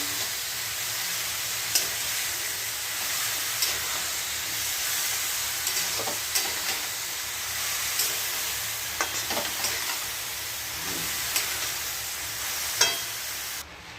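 Shredded cabbage is stirred in a hot pan before a cumin-ginger paste goes in, giving a steady close sizzle broken by scattered spatula scrapes and clicks throughout.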